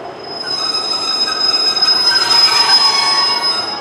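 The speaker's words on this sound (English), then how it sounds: "And it's got squeaky brakes." Loud, sustained high-pitched squealing from train wheels and squeaky brakes as a train arrives at a platform at Newton Abbot station, with a rumbling undertone that swells slightly toward the end.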